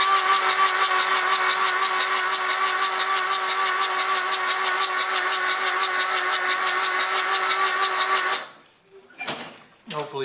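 A diesel engine being cranked over with the glow plugs removed to check fuel delivery, a steady rapid rhythmic starter churn that runs loud and close, then cuts off abruptly before a brief voice.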